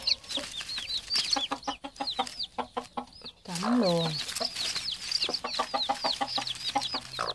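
Newly hatched chicks peep in a rapid, steady stream of high chirps close by, briefly broken by a drawn-out lower call from an older bird, while someone talks over them.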